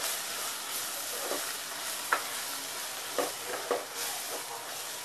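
Spiced masala with coriander being stirred in a pan, a soft steady sizzle under a few sharp spoon scrapes, close and fairly quiet.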